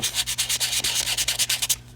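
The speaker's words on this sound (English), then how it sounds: "rough sanding." Rough, rhythmic sandpaper strokes scrape back and forth about a dozen times, close and steady, then stop abruptly near the end, during the build of a 3s Li-ion battery pack.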